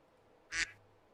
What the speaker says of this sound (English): I think it's the Discord duck quack noise from the Discord soundboard.